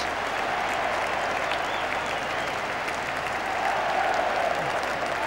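A big crowd at the FA Cup final trophy presentation between Manchester United and Liverpool applauds in a steady, dense wash of clapping that holds at full strength throughout.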